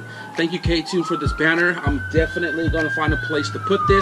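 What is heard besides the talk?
emergency vehicle siren outside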